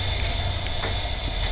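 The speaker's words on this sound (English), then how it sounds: "My washing machine is running." Washing machine running in the background of a garage, a steady low hum and rumble with a constant higher whine, droning evenly without breaks.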